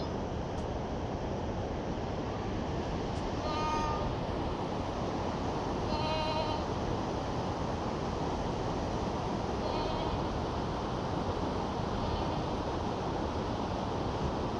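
Goats bleat faintly and intermittently at a herding camp near Dodi Tal by Uttarkashi in the Himalayas, a few scattered distant calls over a steady rushing wind or water background.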